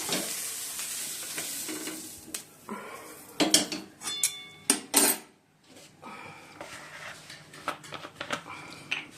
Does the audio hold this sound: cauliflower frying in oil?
yes